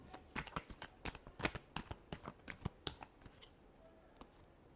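Tarot cards being shuffled by hand: a quick run of soft, papery riffles and flicks, close and fairly quiet, slowing to a few faint taps at the end.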